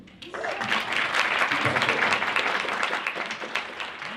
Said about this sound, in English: one big round of applause to him too